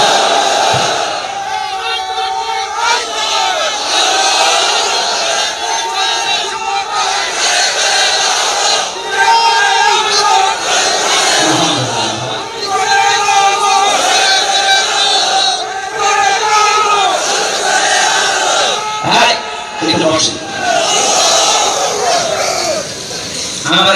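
A large crowd at an outdoor religious rally in Chhoto Sharifpur, Lalmai, Cumilla roars a takbir chant of Allahu Akbar in loud, swelling waves that fill the whole stretch, with a leader's amplified voice woven through.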